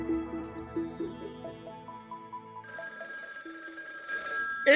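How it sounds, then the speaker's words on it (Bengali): A telephone ringing in a quiet room early in the morning, a repeating melodic ringtone with stepped pitches, moderately loud and alone, growing brighter toward the end. "এই সকালে আবার কার ফোন?"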